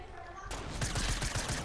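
Sniper rifle fire in a Fortnite match: a short burst of sharp cracking shots, fairly quiet, following a brief lull.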